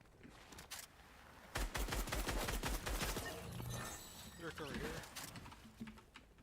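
Rapid gunfire in Fortnite, a dense burst of repeated shots followed by more scattered firing and game effects, heard at moderate volume, with a voice talking over it.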